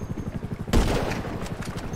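Gunfire in the video game GTA V: a sudden loud burst of shots cuts in partway through, after a run of soft rhythmic thuds.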